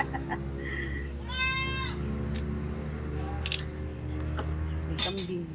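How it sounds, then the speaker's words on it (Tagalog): A goat bleating outdoors in the countryside, a short wavering bleat heard twice against a steady background hum and other faint animal calls, moderately loud with no talking. "May kambing."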